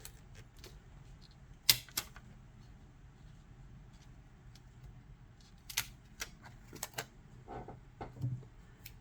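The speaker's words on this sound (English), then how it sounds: "I don't know why I can't cut straight" Scissors snip paper for a planner layout in a few sparse, faint, close cuts, scattered clicks and crisp snips separated by quiet pauses.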